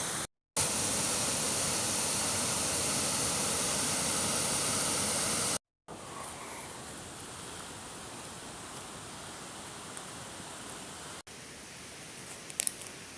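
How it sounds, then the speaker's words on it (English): Powerful rushing water of a stream at Healey Dell Nature Reserve, a loud, constant broadband roar that continues unbroken, briefly interrupted by cuts, then slightly softer but still steady. "It's quite powerful, that water."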